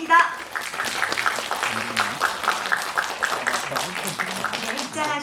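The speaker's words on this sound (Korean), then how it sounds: "여러분 환영의 박수 부탁드립니다." Audience applause welcoming the director and cast onto the stage at a film press event in a cinema, steady dense clapping throughout with some background voices and a child's speech mixed in.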